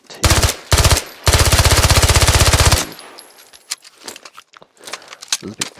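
Submachine gun fire in the game Squad: two short automatic bursts, then a long sustained rapid burst, close and loud, followed by quiet clicks and handling noises.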